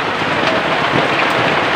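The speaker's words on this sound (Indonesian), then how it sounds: "Di luar agak hujan" Rain falls outside in a steady, dense hiss of drops on surfaces, continuous and fairly loud throughout with no voices.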